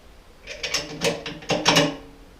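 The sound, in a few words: screwing on bolts while assembling a generator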